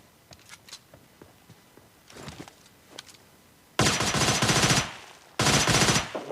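Bursts of rapid automatic gunfire from a PUBG Mobile Lite match ring out loud and close, two long sustained volleys following a few scattered faint shots and clicks.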